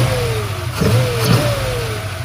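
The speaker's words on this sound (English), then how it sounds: "There's your blueprint 302 engine." A Blueprint 302 crate engine with aluminum heads and fuel injection in a 1977 Ford Bronco revs up twice from a steady idle, each blip rising and falling in pitch, loud and close with no talk.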